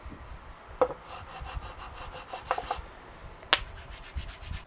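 Tape pressed down onto a Telecaster guitar body, with soft rubbing and scraping strokes and a few sharp clicks, quiet and close.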